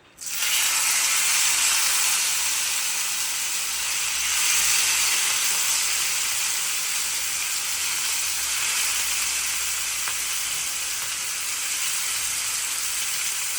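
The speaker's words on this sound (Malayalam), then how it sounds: "എണ്ണ ചൂടായി മീൻ എടുത്തിടാം" A bright, even hiss of small fish frying in hot oil, starting abruptly and holding steady and close for the whole stretch, with no talking.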